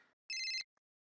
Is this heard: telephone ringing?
yes